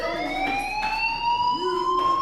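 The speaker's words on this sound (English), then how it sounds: "Hey, do you hear that fire alarm?" A fire alarm in the video game Life is Strange wails loud and steady with a rising electronic tone that fills the whole moment.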